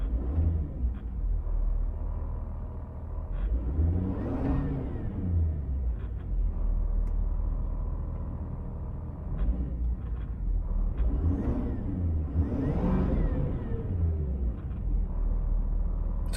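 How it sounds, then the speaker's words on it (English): A 2017 Ford F-250 Lariat FX4 engine idles and revs from inside the cab with the AC off, a low steady rumble with rising and falling turbo whine across several swells, moderately loud and continuous. "So we can clearly hear that turbo and see that turbo rising there"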